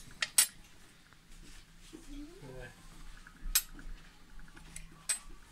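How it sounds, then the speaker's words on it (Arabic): 18/10 stainless steel rice spoons and teaspoons being handled, giving a few bright metallic clinks and taps close by, with a brief scrape in between and quiet talk at moments. "طب ده شكل معلقة الرز زي ما احنا شايفين، معلقة الشاي."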